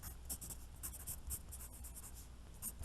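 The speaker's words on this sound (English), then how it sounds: "So I'm going to write this on the side." Pen or marker writing on a board during a sixth-grade math lesson on factors and multiples, with steady scratchy strokes in quick irregular bursts, close and fairly soft, and no talking.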